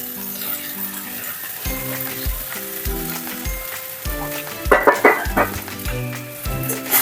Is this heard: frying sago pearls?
yes